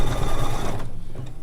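A sewing machine runs a satin stitch on a quilt project, giving a fast, continuous mechanical chatter of needle strokes close up, with the rhythm thinning slightly partway through.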